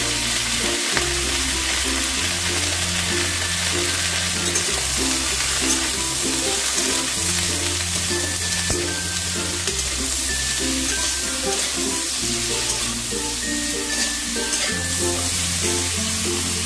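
Pumpkin greens and stalks sizzle steadily in a pan as turmeric is stirred in, a constant frying hiss with soft stirring over quiet background music.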